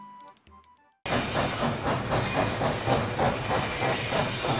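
A steam train arrives at a station in the I Spy Treasure Hunt game, with a loud sustained steam hiss and a rhythmic clickety-clack of wheels rolling on the rails.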